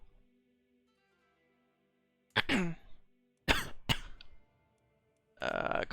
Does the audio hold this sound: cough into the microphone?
yes